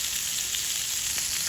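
Meatballs fry in a pan with a steady, dense sizzle that holds at an even level throughout, close and fairly loud, with no voices.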